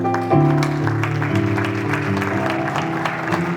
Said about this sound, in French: on applaudit pour la gloire de Dieu